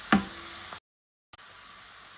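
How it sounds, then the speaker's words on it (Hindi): Garlic and onion frying in a pan give a faint, steady sizzling hiss after a brief knock at the start, with a short gap of silence partway through. "इसको 4-5 मिनट मज़ीद हम लोग फ्राई करेंगे लहसुन और प्याज को"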